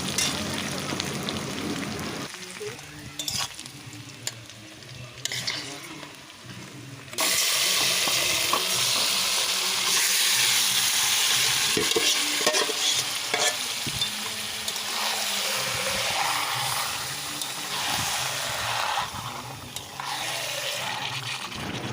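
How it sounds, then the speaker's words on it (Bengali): A handful of onions and spice-marinated meat sizzle and fry in a pan while biryani is being made, with loud continuous crackling and spitting that jumps in intensity partway through, along with occasional stirring and scraping. "ওর মধ্যেই দিয়ে দিলাম এক মুঠো পেঁয়াজ পেঁয়াজটা দিয়ে ভালো করে কষিয়ে নেব এরপর সেই মাংসটা এবার দিয়ে দেবো মশলা মাখানো মাংসটা"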